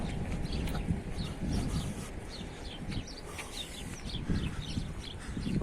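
Sparrows chirp from bushes on an Italian street, short high tweets coming in scattered bursts over a low bed of street noise and faint footsteps.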